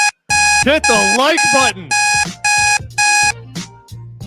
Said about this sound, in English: You hear that alarm? That alarm means a couple things.